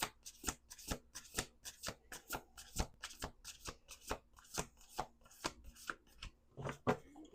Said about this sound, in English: Let's do 1 more shuffle.